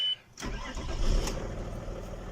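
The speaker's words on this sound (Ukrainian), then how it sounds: "І пробуємо запустити. Включаємо запалення." A VAG 2.5 TDI diesel car with a faulty injection pump cranks briefly and catches, settling into a steady rough diesel idle close by, with no talking.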